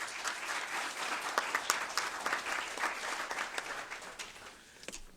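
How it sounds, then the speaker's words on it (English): Audience applause at a local legislative coffee forum, a steady burst of many hands clapping at moderate distance, fading slightly toward the end. "Let's have a round of applause for them."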